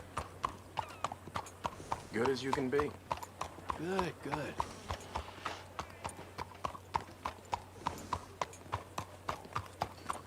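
Horse hooves clip-clopping in Red Dead Redemption 2, a light steady patter of hoofbeats behind a voice talking, with a brief whinny-like tone mixed in.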